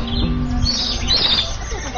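Birds chirp and tweet at Cebu Safari, bright high calls over a busy outdoor din with occasional wing flaps, close and steady throughout.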